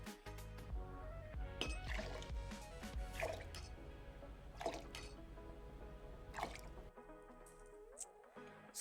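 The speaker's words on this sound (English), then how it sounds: "then we're going to go with 4 ounces of a sparkling water" Key lime flavored sparkling water pours and trickles into a glass in a few bursts, with fizzy drips and splashes close by, then a short quiet stretch at the end.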